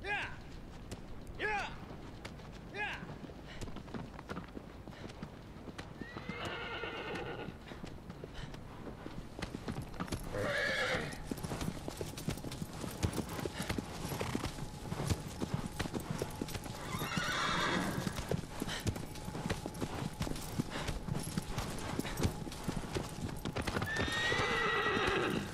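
Horse hooves clip-clop at a gallop with repeated whinnies in the Shadow of the Colossus video game, the rhythmic hoofbeats steady and fairly loud throughout as the horse is ridden across open terrain, with someone talking over it.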